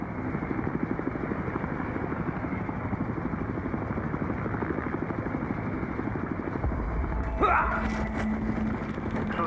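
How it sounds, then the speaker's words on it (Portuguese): Helicopter hovering overhead in the video game Battlefield Hardline, its continuous throbbing rotor drone loud and close. Near the end comes a burst of sharper noises, likely gunfire. "esse helicóptero aqui tá atirando"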